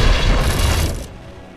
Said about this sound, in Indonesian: Bom tersebut meledak.